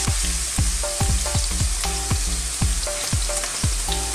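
Garlic, ginger and fresh chili stir-fry in hot oil in a preheated wok with loud, continuous sizzling, broken by repeated rhythmic clanks of a spatula against the metal, with no one talking.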